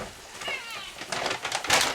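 A hungry pet cat meows insistently at feeding time in a log cabin kitchen, several short rising cries in quick succession, fairly close, with a person talking over them.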